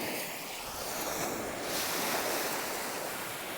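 Sea waves wash steadily onto a shore in Denmark, a continuous close surf roar with light wind noise and no voices.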